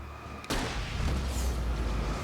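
A flare gun fires with a sudden loud burst in the horror video game Alan Wake, its bright hiss and rumble carrying on alone for about two seconds.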